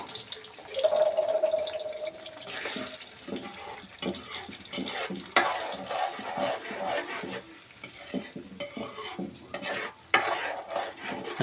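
Spice paste is stirred and fried in hot oil with whole cumin for an egg curry. A spoon scrapes irregularly and the oil sizzles softly, with a brief tonal whine early on and a few louder clatters.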